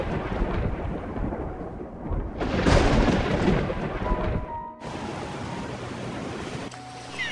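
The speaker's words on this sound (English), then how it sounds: "One day, a man's ship sank in a terrible storm." Storm at sea in an AI-generated short film: rough ocean waves and rumbling thunder surge loudly, with a sharp swell midway and continuous crashing surf and wind afterward, no voices.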